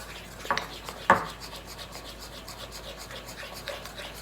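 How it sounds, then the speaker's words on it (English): A spoon stirs melted chocolate in a bowl, giving soft, faint scraping and rubbing with a couple of sharper knocks near the start. "Give it a good stir."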